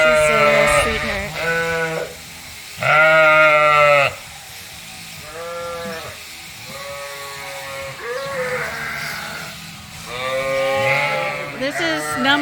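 Suffolk ewes and Dorset rams bleat during shearing, giving several loud, close, drawn-out calls that come in uneven bursts over a low background hum.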